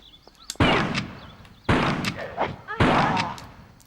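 Shotgun blasts from Tomb Raider 3: three loud, sharp booms about a second apart, each with a short rumbling tail that fades before the next shot.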